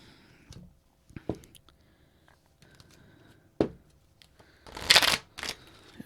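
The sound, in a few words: shuffling a deck of tarot cards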